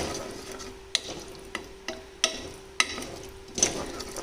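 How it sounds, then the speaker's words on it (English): Spices frying in gravy for North Indian chole are gently stirred. A steady soft sizzle runs underneath, and a spoon knocks against the pan about every half second in a regular, fairly close rhythm. "Just a gentle stir for about 40 seconds to a minute"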